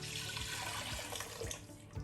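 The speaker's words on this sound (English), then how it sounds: "I'm going to add more water now." Water is poured into a pot of Nigerian egusi soup with spinach, a close, continuous splashing gush with a few heavier glugs, heard alone without talk.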